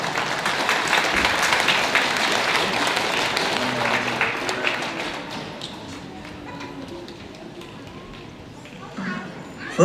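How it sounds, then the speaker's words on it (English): Audience applause at a community gathering for Kiikenomaga Kikenjigewen Employment & Training Services, a dense wash of clapping that starts full and fades gradually over about ten seconds. "Give her a round of applause."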